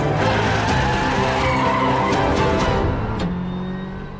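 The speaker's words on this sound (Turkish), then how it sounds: "EcoBoost motora sahip 4 çeker Fiesta R5 ile 2019 Rally Şampiyonası sezonunda genel klasmanda mücadele eden Castro Ford Team Türkiye pilotu Murat Bostancı" A four-wheel-drive Ford Fiesta R5 rally car with an EcoBoost engine, run by Castro Ford Team Türkiye, skids loudly with a gritty engine roar and scrabbling tires that hold steady, then ease off at the end.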